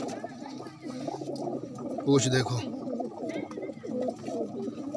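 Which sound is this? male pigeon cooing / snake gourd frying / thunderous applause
male pigeon cooing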